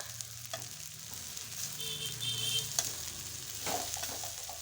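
Dill and spinach palya being stir-fried in hot oil in a pan, a steady close sizzle with soft scraping stirs and a few sharper clicks, no talking.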